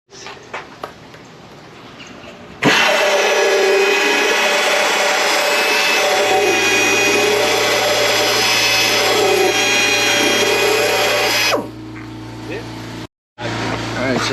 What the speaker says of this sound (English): this is to sand out the inside to make it a rougher surface